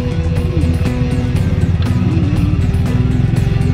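Motorcycle engine running steadily on a mountain road in Kibungan, Benguet, a loud close drone with pulsing low harmonics and slight pitch shifts as the rider holds the throttle, no talking.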